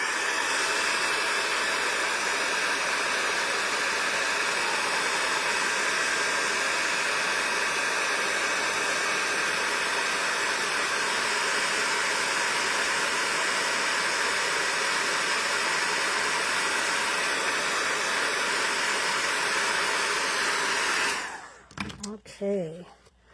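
A heat tool blows steadily to melt embossing powder on a card, a loud, even hissing whoosh that runs unbroken for about twenty-one seconds before switching off abruptly, leaving brief faint handling sounds.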